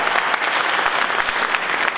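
An audience at a local Democratic Party meeting in Viggianello breaks into dense, steady applause, many hands clapping close and loud throughout.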